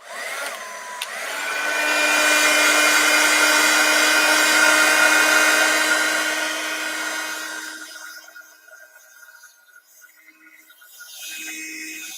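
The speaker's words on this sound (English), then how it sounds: "Got my heat gun" A steady, loud heat gun drying paint, its blower whine with a high-pitched motor tone running for several seconds, then cutting off, leaving faint rustling and a brief restart.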